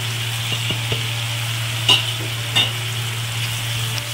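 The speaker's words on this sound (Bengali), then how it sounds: "ভালো করে কষিয়ে নিচ্ছি" Masala with kasuri methi and a splash of water sizzles in a pan for mutton keema tarka, a steady close hiss over a low hum, broken by a couple of brief spatula scrapes.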